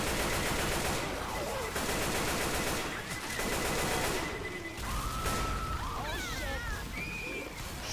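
Steady bursts of gunfire in Left 4 Dead 2's Hard Rain map, loud and continuous over rain and ambient game noise, while players talk over it.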